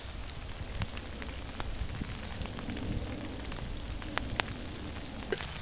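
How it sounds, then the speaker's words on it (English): Heavy rain pours steadily onto an outdoor film set and its gear in freezing cold, a dense continuous hiss with scattered sharper drop hits throughout. "the freezing cold rain that was pouring on us and all of our gear"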